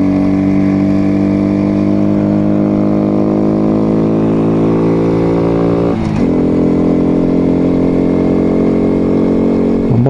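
Honda Dax125 motorcycle engine pulling steadily uphill on the road to Mt. Fuji, a loud, continuous close-up drone with rising pitch, a brief dip around the six-second mark as the revs drop, then resuming its steady climb.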